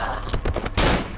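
Rapid burst of gunfire from the horror game Cry of Fear, several close, loud shots in quick succession ending in a heavier blast.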